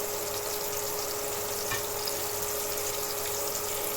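Pieces of meat for homemade chicken-style nuggets frying in a pan of hot oil, a steady, even sizzle close by with a faint bubbling hiss throughout and no talk.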